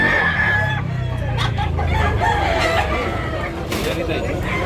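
At the Tabunok poultry market in Talisay, Cebu, a rooster lets out a crow amid constant background bustle, with people talking close by.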